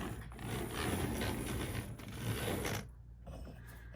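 A Ronald Dodd re-magnetizer's gearbox runs with a dense, loud mechanical grinding and rattling for nearly three seconds, then cuts off, leaving a quieter low hum.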